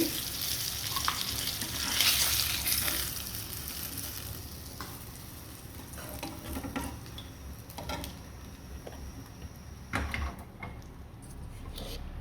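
Fish fries in oil in a pan, a continuous close sizzle with occasional scraping and utensil clatter as the pieces are stirred and lifted out, moderately quiet with no talking.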